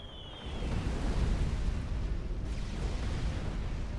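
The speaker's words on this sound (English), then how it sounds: "So the bombers just bomb nothing." Bombers unload over a strategic battlefield in Supreme Commander: Forged Alliance, the bomb blasts merging into a continuous rolling, rumbling roar that swells and holds, with a faint high whine fading early on.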